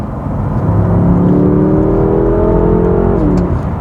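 A BMW accelerates hard and close, its engine note sweeping upward in a rising whir for a few seconds before easing off, with no voices.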